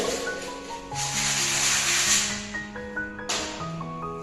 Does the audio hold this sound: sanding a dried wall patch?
yes